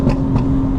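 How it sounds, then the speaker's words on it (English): A 900hp 2025 BMW M4 gives a short, loud, close exhaust burble, a deep rumbling drone with a couple of brief pops, lasting under a second. "Put that burble back on."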